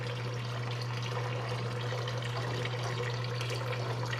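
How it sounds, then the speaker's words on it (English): Water running steadily while car parts are rinsed in a garage, a continuous close splashing rush with a low hum beneath it. "I might get a cup and do one last rinse over."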